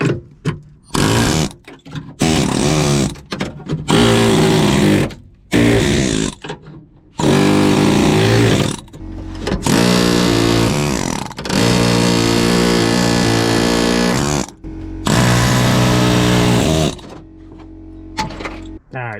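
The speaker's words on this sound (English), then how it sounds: "I'm just going to buzz all this out, take it back with the air hammer" Pneumatic air hammer cutting rotten sheet metal out of a Camaro body during welding repair, loud rapid buzzing bursts of hammering repeated many times with short pauses between them.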